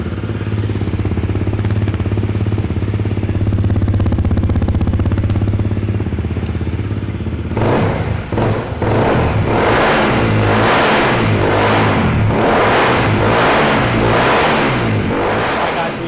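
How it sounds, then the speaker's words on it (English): A 2013 Honda CRF250L motorcycle fitted with an FMF Powerbomb header and Q4 muffler idles with a steady low drone, then is blipped repeatedly in a rhythmic series of loud, close revs. "So now we're going to give it a fire it up, see what she sounds like."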